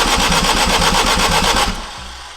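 An Acura RSX with an all-wheel-drive build cranks steadily without catching, a rapid rhythmic churning that runs for nearly two seconds, then cuts off into a faint low hum.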